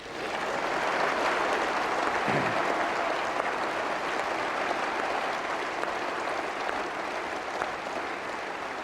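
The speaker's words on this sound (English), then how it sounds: "Don't clap too long, as Lord McAlpine will go mad" An audience at a 1996 political conference applauds at length, a dense, even roar of many hands clapping continuously and loudly throughout, with no speech over it.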